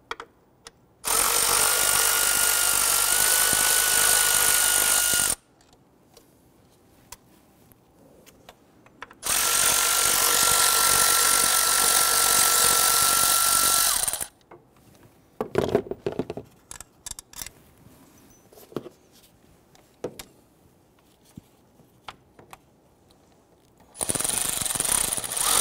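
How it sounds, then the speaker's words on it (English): Ignition coil bolts are removed from an Infiniti G37 3.7L V6 with a power tool, giving two long, loud, steady whining runs and a third starting at the end, separated by quieter clinks and handling clatter. "remove the bolts and we're gonna set those aside"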